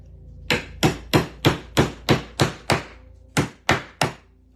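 A small hammer strikes barnwood slats, about ten sharp, close knocks in a steady rhythm with a short pause before the last three, and no talking.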